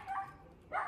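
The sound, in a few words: dogs barking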